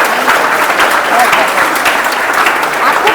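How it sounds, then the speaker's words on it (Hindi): Audience applauding at a Delhi Police final selection event: dense, steady, loud clapping from a large crowd, continuous throughout with a murmur of voices underneath. "जैसे इतने लोग तालियां बजा रहे हैं"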